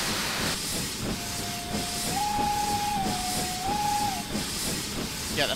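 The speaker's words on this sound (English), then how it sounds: "that beautiful chime whistle that you can whistle along with" Steam locomotive chime whistle in Train Simulator 2016 on the Western Lines of Scotland, a sustained two-tone chime stepping between pitches for about three seconds over a constant steady hiss and rumble of the running engine.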